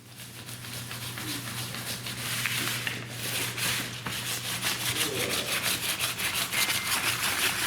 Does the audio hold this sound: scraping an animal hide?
yes